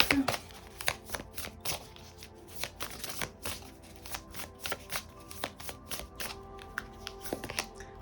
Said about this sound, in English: let's go ahead and grab some oracle cards